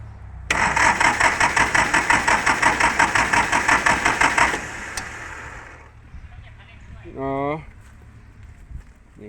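A Kubota tractor engine, still cold, runs with a loud, steady pulsing rumble for several seconds, then cuts out, leaving quiet background and a short burst of speech.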